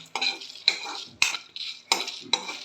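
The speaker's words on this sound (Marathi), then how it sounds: "जिरं आणि लसूण भाजी यायला लागली आहे." Cumin seeds and garlic roast in a pan as a spoon scrapes and stirs them, sounding as five or six distinct metallic strokes with short pauses between them and a faint sizzle underneath.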